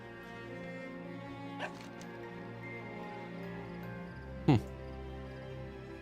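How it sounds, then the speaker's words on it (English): The dog Luma in World of Warcraft lets out one short, sharp bark late on, after a smaller yip earlier, over a steady background of game music. "She lets out a short bark, tail wagging once before trotting a few steps forward"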